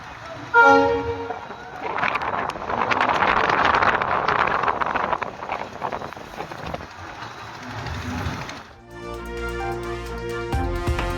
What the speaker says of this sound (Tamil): பாம்பன் செங்குத்து தூக்கு பாலத்தில் முதல் முறையாக சரக்கு ரயில் சோதனை ஓட்டம்.